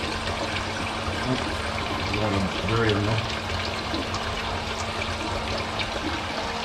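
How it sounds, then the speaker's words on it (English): Water trickles steadily over plants in a hydroponic greenhouse growing system, a continuous close gurgling flow while a person talks over it. "you can see the water going over it."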